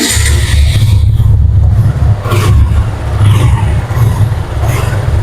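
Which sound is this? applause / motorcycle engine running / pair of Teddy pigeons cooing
motorcycle engine running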